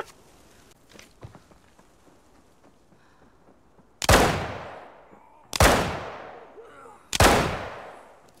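Gunfire in the video game Arena Breakout, three loud single shots spaced about a second and a half apart, each with a booming decaying tail, following quieter game ambience and faint footsteps.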